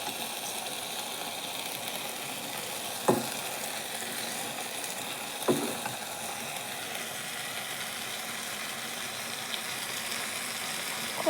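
Ingredients sautéing in oil in a cooking pan: a steady, even sizzle held at moderate level throughout, broken by two short scraping knocks of stirring near the middle.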